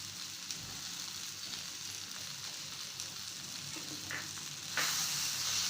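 Brinjal curry sizzles steadily in a pan as dry coconut and crushed peanut powder are stirred in, a continuous close frying hiss with a louder burst near the end and no speech.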